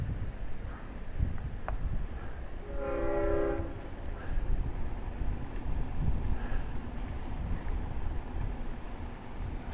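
Long Island Rail Road train 16, the Cannonball, rumbles toward Westhampton station with a steady low roar and sounds one clear multi-tone horn blast partway through, with no voices.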